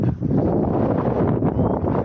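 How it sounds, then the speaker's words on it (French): Strong wind buffets a microphone outdoors during a remote-control car run, making a loud, steady rumbling roar with no letup and no talk. "Aujourd'hui il y a beaucoup de vent."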